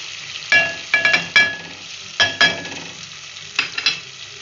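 Spices tossed into a pan with softened tomatoes for chana pulao, stirred and frying in bursts: several loud sizzling scrapes in clusters, each fading quickly, with quiet gaps between, close up and without speech.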